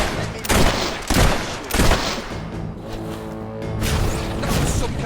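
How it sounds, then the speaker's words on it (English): Bursts of fire magic in Fable III roar out as several loud whooshing blasts, one after another in quick succession, followed by a sustained crackling rumble. "That was some kind of fire spell."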